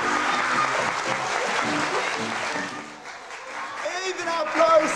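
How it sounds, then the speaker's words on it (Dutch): An audience at a Mariaschool festival week in Hoorn applauds a participant, a crowd clapping steadily while voices chatter and call out over it, dipping briefly before swelling again. "Even een applausje voor Mr."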